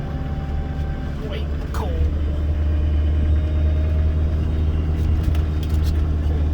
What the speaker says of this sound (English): But all the extra injector clatter you could ask for, just a rolling it.